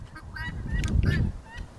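Geese honking close by in a yard, a few harsh overlapping calls in a short burst over low rustling.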